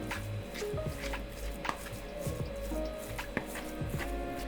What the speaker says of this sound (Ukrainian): Просто перетираю його ложкою, щоб подрібнити.